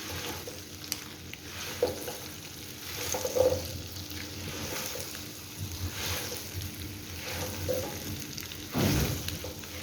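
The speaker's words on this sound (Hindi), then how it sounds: "इस तरह आपने मसाले को अच्छे से भिंडियों पे लगा देना है" Okra coated in masala fries on a medium-high flame with a soft, continuous sizzle. Occasional scraping and stirring swells rise and fall through the sound, and no one talks.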